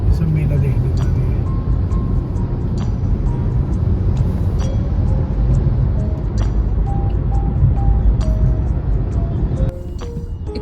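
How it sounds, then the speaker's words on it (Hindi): Heavy road traffic near the Taj Mahal in Agra, mostly trucks and cars, a dense, loud, continuous rumble of engines with scattered horn toots, close by and unbroken until a slight drop near the end. "इतना ज्यादा ट्रैफिक"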